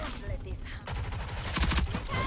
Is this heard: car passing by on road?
no